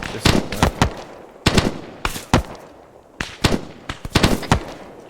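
Rapid bursts of automatic gunfire in the military game ArmA 3, several sharp volleys in quick succession with short pauses between them, loud and close.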